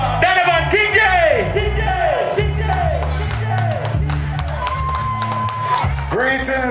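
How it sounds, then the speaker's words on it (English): A live crowd at a reggae night at Hootananny cheers, whoops and claps loudly as Donovan Kingjay is brought on stage, with shouts, whistles and a steady sound-system hum underneath. "Give him a round of applause and bring him on, the man."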